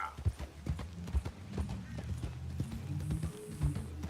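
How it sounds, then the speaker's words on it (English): Horse hooves clip-clop in a steady trotting rhythm in a video game, fairly close and moderately loud, with a brief whinny-like tone and game ambience underneath; no talk. "There's Buell, my future horse."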